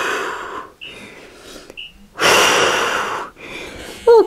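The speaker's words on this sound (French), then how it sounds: "Respiration lente." Slow, deliberate breaths during a bodyweight circuit held in a static position, with several drawn-out inhale and exhale phases, one long, loud exhale near the middle, and a sharp gasp at the end, close and clear with no talking.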